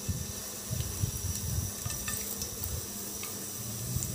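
Chopped garlic in a small amount of oil gives a steady, close sizzle with light spoon-stirring scrapes throughout, heard alone without talk.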